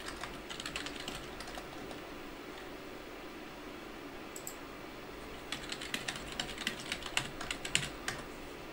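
Keys tapped on a computer keyboard while searching a shopping site, soft clicking in uneven bursts, sparse at first and then faster and denser clusters toward the end, close and fairly quiet over faint room hiss.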